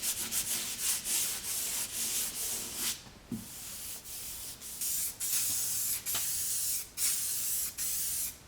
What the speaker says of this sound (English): I'm now going to rub it back with a 240 grit sanding disc